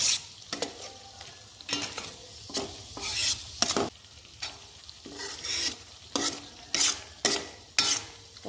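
Pointed gourd is stirred and sautéed with sugar and green chillies in a pan, with repeated scraping strokes of a spoon rising over a continuous sizzle at a brisk, uneven rhythm.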